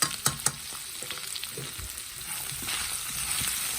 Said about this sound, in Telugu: ఇది దొండకాయ కాస్త వేగిపోయింది ఇంకా పచ్చివాసన పోయే వరకు వేగిపోతే సరిపోతుంది